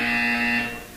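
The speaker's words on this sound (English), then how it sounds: "You will hear a buzzer. When you hear the buzzer, look down at the floor." A single loud electronic buzzer in the video game Portal 2 gives a steady, harsh, tonal drone for about a second before cutting off.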